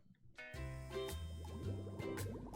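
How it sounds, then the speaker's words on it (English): Water sound effect from the Cookie Run: Kingdom video game, a short burst of bubbly, gurgling liquid splashes layered over a bright musical chime, quiet overall and lasting about two seconds. "There's water."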